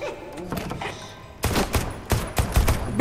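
Gunfire in the video game Deceit 2, a sharp burst of several loud, close shots in quick irregular succession following a stretch of quieter game ambience and faint voices.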